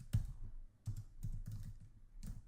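Typing on a computer keyboard, clusters of quick clicking keystrokes in several short bursts separated by brief pauses, close and moderately loud.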